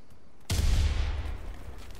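A single grenade blast goes off in a battle royale video game, a sharp loud burst with a deep rumbling tail that fades over a second or so.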